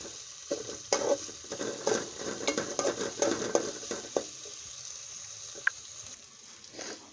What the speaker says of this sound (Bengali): এখন রসুন কুচি দিয়ে দিলাম, দিয়ে ভালোভাবে